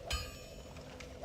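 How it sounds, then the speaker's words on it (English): A mobile phone gives off a faint metallic chime with a ringing tonal tail, quiet under background game music, with a second softer ding shortly after. "that was my phone going"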